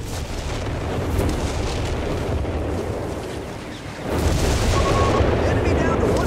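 Mortar fire in the Company of Heroes 3 video game, dense rumbling battle noise of blasts and booms with a louder surge of explosions near the end, continuous and close.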